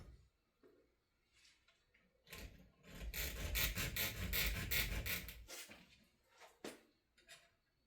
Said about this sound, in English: So I've got the hacksaw